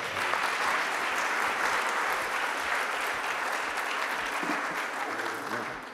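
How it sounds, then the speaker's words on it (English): Sustained applause from an audience, dense and steady clapping throughout, fading slightly near the end. "Big round of applause."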